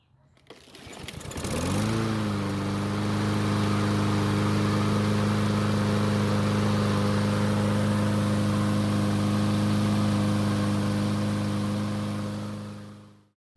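A gasoline lawn mower running on a small measured fuel load starts with a short cranking flurry, then holds a loud, steady droning idle before cutting off at the end.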